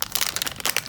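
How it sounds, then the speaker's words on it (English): An HP ink cartridge package being peeled open along its perforation, a quick burst of crinkly plastic and paper tearing, close and brief with no talking. "find the little perforation there, and peel it open"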